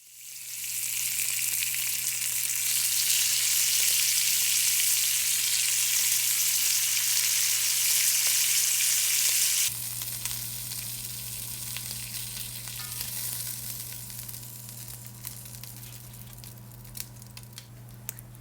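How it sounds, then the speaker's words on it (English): Shrimp fry in a pot for white shrimp adobo with a loud, dense, continuous sizzle. Partway through the sizzle drops to a quieter crackle under a low steady hum, with occasional small pops and taps. "Turn the shrimp over and cook the other side for about 1 minute."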